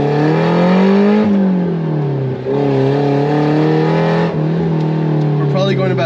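A Mitsubishi Pajero Mini kei off-roader with an 8,000 RPM redline pulls in first gear, its small engine droning steadily and loud from the cabin with a rising then easing whine, while someone talks over it.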